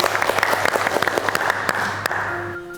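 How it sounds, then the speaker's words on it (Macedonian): A studio audience on a cooking-competition elimination show applauds a contestant: steady, dense clapping with sharp individual claps, sustained for nearly three seconds before tapering off at the end. "Ве молам еден голем аплауз за Тамара Иванова"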